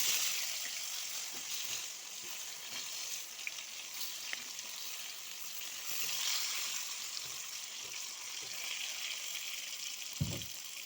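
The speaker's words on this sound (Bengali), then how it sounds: "পটলগুলো ভেজে নেব।" Pointed gourd pieces fry in a pan with a continuous, even hiss of sizzling oil, fairly quiet, with occasional faint pops and a soft knock near the end.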